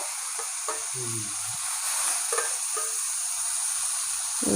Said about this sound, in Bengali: এবার মাছ কটা ভেজে নেব